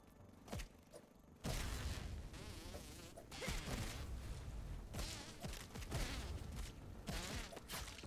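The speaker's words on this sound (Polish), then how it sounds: "tam jest kolejny komar" Mosquito buzzing in the survival video game Grounded 2, a loud, sustained insect whine over busy game effects and thumping hits, starting after a quieter opening and continuing with rising and falling intensity.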